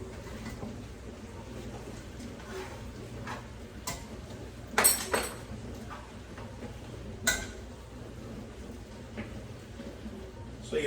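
Sausage gets stirred with peppers and onions in a pan, a soft crackling sizzle under scattered clinks and scrapes of a utensil against the pan, with a few louder knocks.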